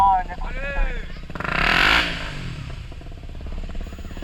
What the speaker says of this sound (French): Fais-nous une petite accélération en première